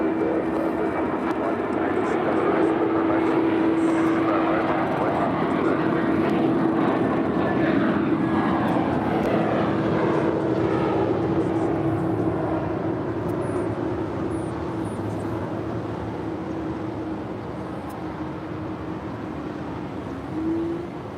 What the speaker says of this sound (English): American Airlines flight 2112 heading to Dallas, Fort Worth, Texas. An A321 now rolling down 25 right.